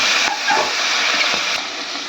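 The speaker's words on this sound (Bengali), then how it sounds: "আবারও তেল দেওয়া হয়ে গেছে, একটু জিরে ফোড়ন দিলাম। এবারে এই বাইন মাছগুলো ঢেলে দিলাম।" Baim eel fish poured into hot oil with cumin, a loud steady sizzle and hiss close by, with no talking.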